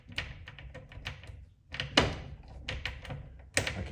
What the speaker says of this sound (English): I can hear it's lifting the levers.